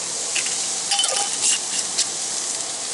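Onions and peppers fry on a Blackstone griddle with a steady, close sizzle, broken by light scraping and clinking from a utensil stirring them.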